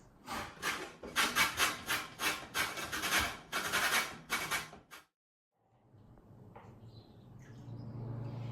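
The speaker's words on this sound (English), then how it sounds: "So we grate the lemons." Lemon skin is grated on a grater for a blueberry lemon cake, a close, rhythmic series of rasping scrapes for about five seconds, then quiet background with faint chirps.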